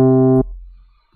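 A single sustained electric piano chord, warm and bell-like, held briefly then cut off, leaving near silence.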